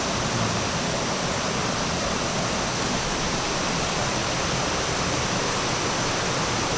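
A clear river runs beside the Batu Nabau rock in Engkelili, Sarawak, making a steady, dense rush of water that stays loud and unbroken throughout, with no voices.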